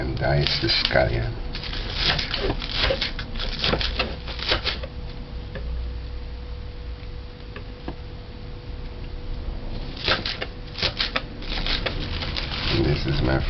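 A knife dicing scallion on a cutting board, with bursts of quick, light chopping taps near the start and again later, separated by quieter stretches; a person talks throughout.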